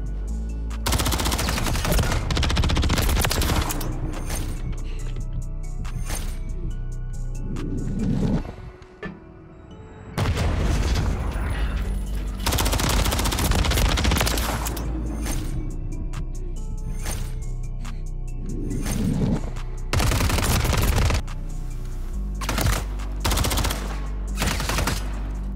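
Rapid automatic gunfire from a video game 1v1 match, loud, dense bursts running nearly the whole time with a brief lull near the middle, no talking.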